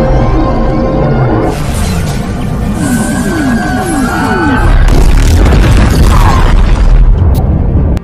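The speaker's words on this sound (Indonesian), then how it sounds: "Hingga pada akhirnya kapal si David langsung meledak" Loud, booming blasts and rumbling crashes of a ship exploding in a film, over dramatic orchestral music, with a heavy, continuous roar of destruction.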